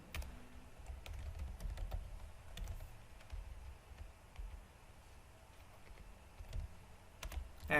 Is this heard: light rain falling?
no